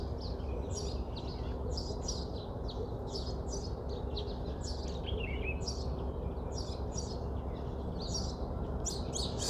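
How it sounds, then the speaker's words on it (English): Many birds chirp and tweet in quick, overlapping bursts from a big tree on a crisp, cool morning, a busy chorus carrying over a steady outdoor hum with no talking. "So many birds in this tree."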